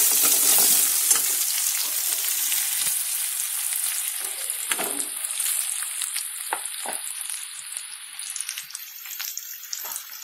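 Onions fry and sizzle in a pan while being stirred, with a steady crackling hiss and scraping strokes of a spoon, loud at first and easing slightly, no voices.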